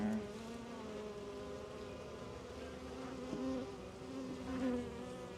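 Honey bees buzz steadily around an opened backyard hive during an early spring inspection in Florida, a dense close droning hum with slight swells, no talk over it.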